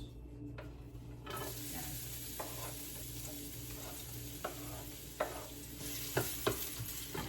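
Chopped onion and garlic sauté in a pan for chicken pastil, a soft steady sizzle with occasional scraping stir strokes that grow more frequent near the end, while a voice speaks briefly.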